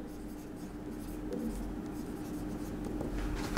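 Steady scratching of a marker or chalk writing on a board during a maths lesson, a continuous close, fairly quiet scraping with no speech.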